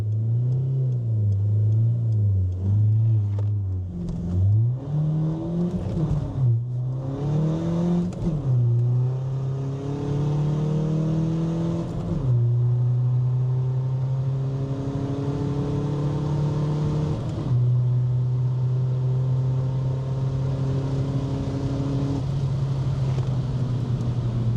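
A 350hp Škoda Fabia 1.9 PD runs hard from 0 to 100 km/h, its engine revving up in rising sweeps through several gear changes, loud and close, with the pitch climbing again after each shift before settling into a steady drone.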